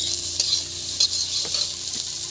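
Onion fries in a pan with very little oil, a loud, close sizzle broken by several sharp scrapes as a spoon stirs the pan.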